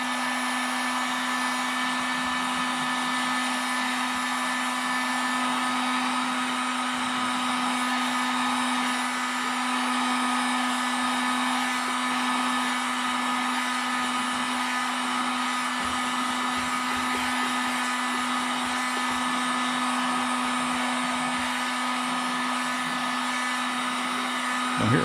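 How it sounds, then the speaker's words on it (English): A heat gun blows steadily and close for the whole stretch, shrinking Doculam plastic film covering on a model aircraft wing, a constant loud droning hiss with no breaks. "I'm going to be a little more gentle with the heat gun."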